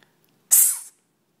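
One sharp, breathy hiss lasting under half a second, bright and close, then silence; likely a voice imitating a snake.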